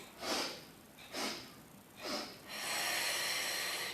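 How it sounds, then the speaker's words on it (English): Three quick sharp nasal sniffs, evenly spaced about a second apart, come from someone doing a Pilates breathing exercise with a towel and weights. A long, steady breathy exhale follows, close and quiet with no talking. "We're going to do 3 sniffs to go down."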